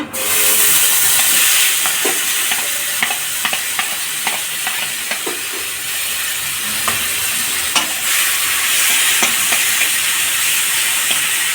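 Chopped tomatoes fry in a hot pan with a loud, continuous sizzle and hiss, punctuated by scattered clicks and scrapes of stirring, close up and with no talking.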